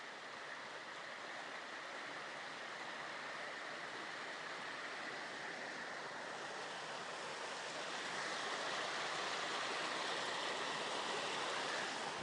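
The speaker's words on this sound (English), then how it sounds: "I'll just show you the sound of running water." Running water at the Caldon Canal, a steady, full rushing hiss that holds throughout and grows slightly louder near the end, with no voices.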